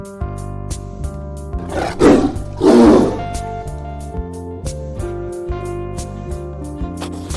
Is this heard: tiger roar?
yes